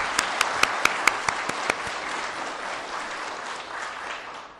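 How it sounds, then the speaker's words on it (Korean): Congregation applause at a church installation service for a new senior pastor, a dense wash of clapping with several sharp individual claps standing out early, then settling into steady, sustained applause with no talking. "박수 한번 치시죠."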